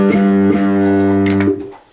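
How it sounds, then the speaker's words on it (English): A sustained, buzzing note played through a small distortion pedal for extra grit, rich in harmonics and loud and close, with a couple of brief bright attacks before it cuts off near the end. "a little distortion pedal to give it an extra punch and make it a little bit more dirtier"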